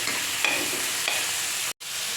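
Onions and tomatoes fry with turmeric in a pan, giving a steady, close sizzle with a few soft stirring taps and a momentary break in the sound near the end, with no talking.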